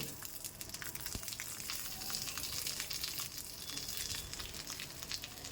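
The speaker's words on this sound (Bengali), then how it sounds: "এরমভাবে উল্টিয়ে 5 মিনিটের জন্য আবার ভাজলে মাছটা কিন্তু সম্পূর্ণ রেডি হয়ে যাবে" Bhetki fish fillet frying in a pan just after being flipped, giving a steady soft sizzle and crackle of hot oil throughout, moderately close, with no talking.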